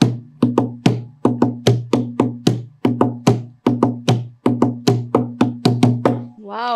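Palm slaps and knocks on the wooden body of an acoustic guitar, played like a clapboard in a quick, steady percussive rhythm of sharp hits, close and loud, ending with a brief sung note.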